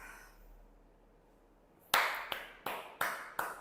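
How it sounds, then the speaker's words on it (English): Students in a JEE chemistry class clap after a quiet pause, giving five sharp, close claps in a steady, slightly slow rhythm with brief gaps between them. "Clap for yourself, everybody."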